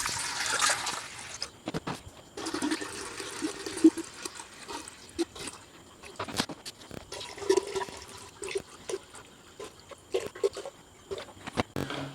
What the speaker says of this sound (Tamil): இப்போ 5 லிட்டர் தண்ணி சேர்த்துட்டேன்